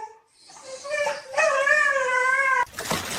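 A dog whimpers and whines in a rising, drawn-out cry lasting a couple of seconds, close and fairly loud, ending abruptly in a noisy rustle.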